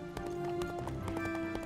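Horse hooves galloping in the video game Horse Eventing 3, a quick steady clip-clop rhythm of repeated hoof strikes running throughout, moderately loud with no talking.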